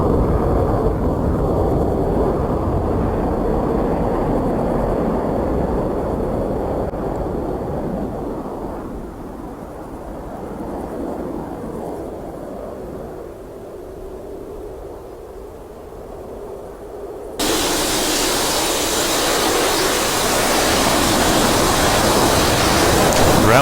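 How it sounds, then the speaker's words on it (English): A jet pulls a tight minimum-radius turn at full afterburner during a DCS World air show, a loud continuous roaring rush that eases off in the middle and then surges back abruptly, with no talk. "Pull left into a tight minimum radius turn, full afterburner."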